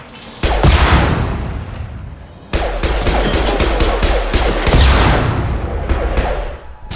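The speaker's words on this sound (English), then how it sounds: "Shotgun!" Heavy, booming shotgun blasts thunder through a Mass Effect 2 combat scene, two big loud bursts followed by rapid crackling shots and rumbling impacts, close and dense.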